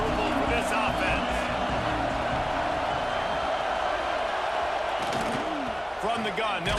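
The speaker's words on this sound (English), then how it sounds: "This crowd trying to make life miserable for this offense." Steady, loud stadium crowd roar from the College Football 26 video game during a Michigan versus Penn State matchup, a dense wash of cheering that holds throughout with occasional sharper bursts, heard under voices.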